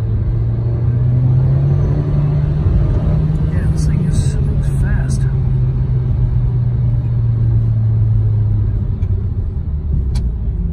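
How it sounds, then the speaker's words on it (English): A 2014 Nissan Juke Nismo RS, 73,000 miles, accelerating quickly on a road past a cyclist: a loud, steady engine drone and cabin rumble that holds throughout, with a voice speaking briefly over it midway. "I'm going to do a quick acceleration now that I'm past that bicyclist."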